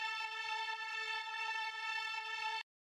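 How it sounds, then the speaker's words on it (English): A string synth layered with a copy pitched one octave down plays one steady, bright sustained chord for about two and a half seconds, then cuts off abruptly into silence, with no voices. "I've doubled it up and pitched it down to like one octave down"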